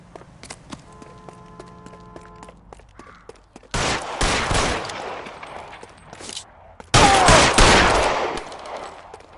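Gunfire in the video game L.A. Noire: after soft ticking and a quiet stretch, two loud, close volleys of rapid shots hit a few seconds apart, each trailing off with echo, and no one talks.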